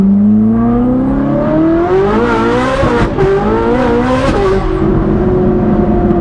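Tires spin and squeal under hard acceleration as a car's engine revs loudly and unevenly, the pitch climbing and dipping over several seconds of close, continuous noise.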